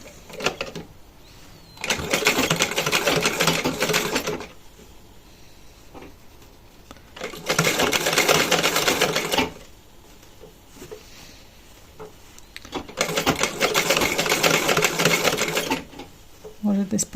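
A sewing machine runs a decorative topstitch over embroidery on a men's embroidered shirt in three bursts of steady, fast, close whirring stitching, separated by pauses in which someone talks.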